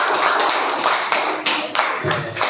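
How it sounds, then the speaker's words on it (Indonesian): A class of sixth-grade students claps for a student group after its presentation, with quick, uneven bursts of hand claps and taps close by in a classroom. "tepuk tangan untuk kelompok"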